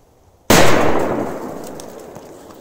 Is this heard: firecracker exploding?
yes